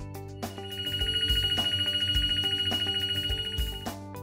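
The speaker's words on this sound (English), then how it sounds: "When the baking time has counted down to 0, the baking is finished and you will hear an audible signal." A Sveba Dahlen oven's SD Touch control panel sounds its baking-complete signal: a steady electronic ringing tone that holds for roughly three and a half seconds, clear and alone.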